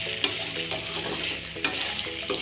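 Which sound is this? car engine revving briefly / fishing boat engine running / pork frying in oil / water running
pork frying in oil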